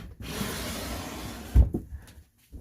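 A drawer in a garage workshop storage unit holding fasteners slides open with a steady rolling rumble, ending in a sharp knock as it stops, followed by quiet.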